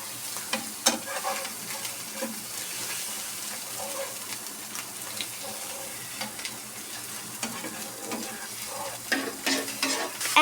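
Spices and magic masala being stirred in a sizzling pan before meat goes in, with a steady frying hiss and irregular scraping and clinking of a spoon against the pan, close and moderately loud.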